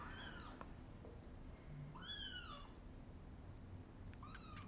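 Tiny orphan kittens being bottle-fed give thin, high-pitched meows, three clear cries spaced across a few seconds in a quiet room, the middle one loudest.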